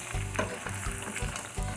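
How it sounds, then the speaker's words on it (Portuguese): Food crackles and sizzles in a pan, with soft rhythmic stirring scrapes every half second or so. "Ela vai cozinhando e fritando."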